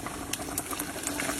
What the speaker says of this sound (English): Wait, you hear that sizzle? You know it's about to be good.